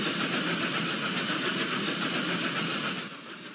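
A steam-age train in the video game Roblox rumbles along the rails at speed with a steady, droning roar and faint rhythmic clatter, dropping slightly at the end.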